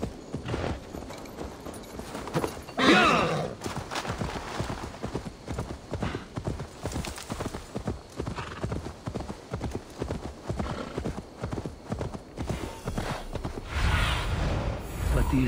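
Hooves pound in a rapid, steady gallop as a horse is ridden in Assassin's Creed Valhalla, close and continuous for the whole stretch, with a brief whinny and a few mechanical game sounds.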